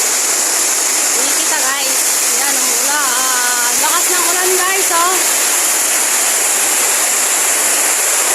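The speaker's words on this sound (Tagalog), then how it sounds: "Ang lakas ng ulan, naririnig nyo ba guys?" Heavy rain roars as a dense, steady wash of noise, with a person talking over it.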